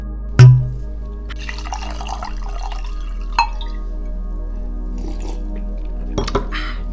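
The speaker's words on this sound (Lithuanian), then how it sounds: "reikia vandens įsipilt" Water is poured into a glass indoors, with a sharp knock as the glass is set down, then a steady trickle and a couple of clinks near the end, close and clear.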